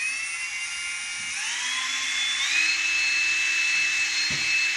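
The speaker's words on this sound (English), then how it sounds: "So I've just got this is a 3mm drill bit." A high-pitched electric drill with a 3mm bit whines steadily, its pitch rising slightly as it spins up, with a faint knock near the end.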